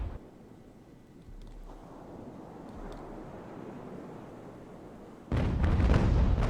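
Ship cannons firing in the Ultimate Admiral: Age of Sail naval game: a low, rumbling battle ambience builds, then a loud, sharp broadside blast erupts near the end.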